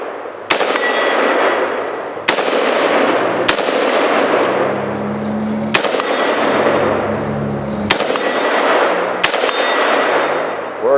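AR-style rifle fired at a 2-liter bottle target outdoors, five loud sharp gunshots spaced a couple of seconds apart, each followed by a long ringing decay, with no talking.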